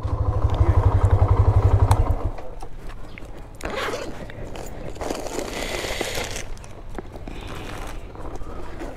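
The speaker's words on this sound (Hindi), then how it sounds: "अरे भाई चैन खराब हो गई है बैग की मेरे" A delivery bag's zipper gives a loud, rapid ratcheting pull for about two seconds, close up, followed by quieter handling, rustling and faint street noise.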